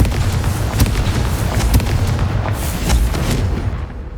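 A Confringo fire spell blasts in Hogwarts Legacy, a loud, dense barrage of booming explosive bursts and crackling impacts that runs continuously, with a few sharper hits standing out toward the end.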